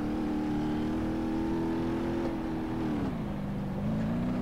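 In BeamNG.drive, an Ibishu Pessima diesel wagon's engine drones loud and close as it revs steadily, then the pitch drops as the automatic transmission shifts, with no talking over it.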